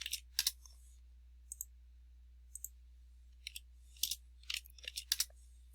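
Sharp computer mouse clicks in sparse single and double bursts, close and crisp over near silence while elevations are edited in drafting software.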